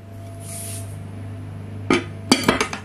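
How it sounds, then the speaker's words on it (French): A lid set onto a cooking pot for a guinea fowl and cabbage dish, a few close metallic clinks and clatters in quick succession, with a steady low hum underneath. "Donc on va mettre le couvercle."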